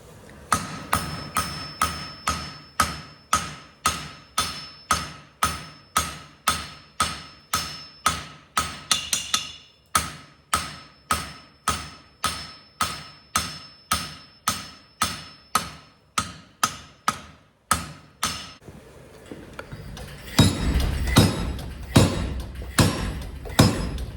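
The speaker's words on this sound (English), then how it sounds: "I'll heat that and then I'll bring it out and go to forging on it." Steady hammer blows ring out on hot steel at the forge during a deer head sculpture, evenly spaced strikes for about twenty seconds, a brief pause midway, then a louder, rougher burst of heavier noise at the end.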